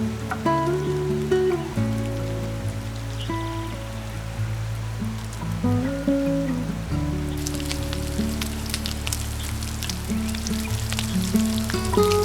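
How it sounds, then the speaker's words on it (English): Glazed food sizzles over a crackling open fire, a steady frying hiss with crisp pops and crackles that brighten in the second half, set under a continuous tonal musical bed. "glazing more goodness as it sizzles over a crackling fire"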